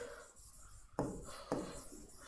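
Chalk or marker writing on a board during a chemistry lesson, quiet scratchy strokes with two distinct taps as new strokes begin, close and faint without speech.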